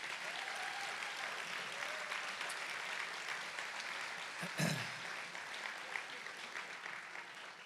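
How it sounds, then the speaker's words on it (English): Applause from diners at an annual dinner rolls on as steady, soft clapping from a crowd in a hall, heard at a distance, with a louder knock partway through. "Give her a round of applause"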